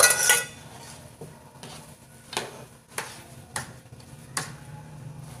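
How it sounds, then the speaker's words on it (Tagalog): Sticky rice biko mixture being stirred in a cooking pot, giving a few faint, irregular knocks and scrapes of the utensil against the pot, spaced about a second apart over a quiet background. "Mahirap pala to guys, haluin kasi malagkit."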